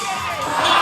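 Spectators cheering and shouting loudly for a climber on the wall at a lead climbing World Cup competition in Switzerland, a dense, sustained burst of crowd noise.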